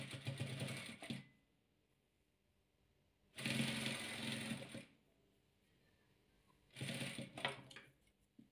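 A sewing machine stitches patchwork fabric in three separate bursts of fast, close mechanical whirring, with quiet pauses between them.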